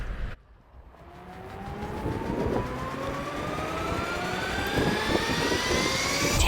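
A DJI Mini 2 drone spins up and lifts off outdoors, its high whining propeller tone climbing steadily in pitch and growing louder over several seconds, close by, with no speech.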